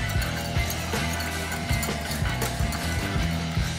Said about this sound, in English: Whisk to combine.